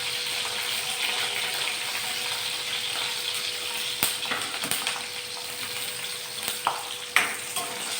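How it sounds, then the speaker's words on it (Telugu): Green chillies sizzling in hot oil, a steady close hiss of frying with a few sharp spatters and stirring taps toward the end, without any voices. "నేను పచ్చిమిరపకాయలు వేసి వేయిస్తున్నాను"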